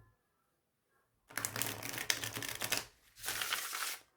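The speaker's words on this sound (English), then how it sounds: "Oh, it's just divine to shuffle." Tarot cards of the Jean Dodal deck are riffled and shuffled close up in two crisp bursts of papery fluttering, separated by a short pause, after a quiet start.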